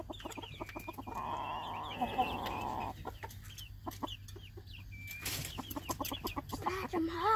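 Chickens cluck and squawk near and far in a yard as a copperhead snake confronts them, with bird calls scattered over steady background noise.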